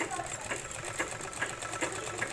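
Sewing machine stitching a finishing seam on a thick petticoat fabric, a steady fast mechanical whirring with rhythmic needle clatter, close and continuous.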